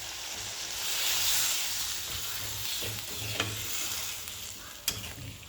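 Green peas stirred into a sizzling pan while cooking a raw banana kofta curry, a steady frying hiss with soft scraping strokes and a couple of sharp utensil clicks near the end.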